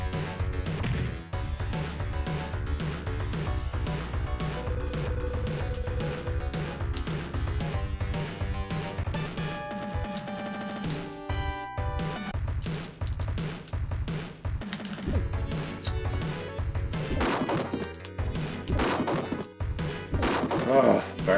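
Barrels smashed in the Street Fighter 2 Turbo bonus stage on the Sega Genesis, a rapid string of sharp crashing whacks and thuds over busy game music, continuing steadily throughout.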